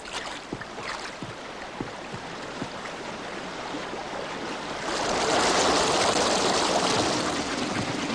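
Water is released to run through a mill and rushes steadily. The flow starts as a soft wash with faint knocks, then swells into a louder, fuller rush.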